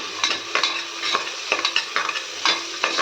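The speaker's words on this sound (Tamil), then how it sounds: "வெங்காயம் போட்டு வதக்கலாங்க. சும்மா லைட்டாக நம்ம வதங்கினா போதும்." Halved sambar onions, about ten or twelve, being sautéed in oil in a pan for bisi bele bath, a close steady sizzle with regular spatula strokes scraping and tossing several times a second, no voices.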